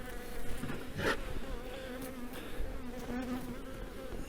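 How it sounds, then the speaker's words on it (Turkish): Honeybees crawl and buzz over a beehive frame during a brood and condition check as winter approaches, a steady close droning hum with no voices. "Arı üzerinde arı geziyor."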